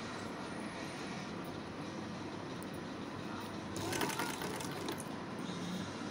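A sewing machine stitches a blouse sleeve decorated with thermocol balls, a steady fast mechanical whirring chatter running throughout at moderate volume, with a slight rise in clatter partway through.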